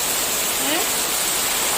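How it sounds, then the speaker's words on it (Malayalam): Heavy rain driven by strong wind roars as a dense, unbroken wash, loud and close, with a faint brief tonal sound passing briefly within it. "ഭയങ്കര മഴ അതിശക്തമായിട്ടുള്ള മഴ"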